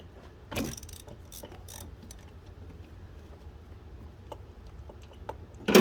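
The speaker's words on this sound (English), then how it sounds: "Now I'm going to pull a plug out" A ratchet works a spark plug loose from a 2006 Jeep SRT8 engine, giving a few sharp, sparse clicks and short ratcheting bursts, ending in a louder clunk.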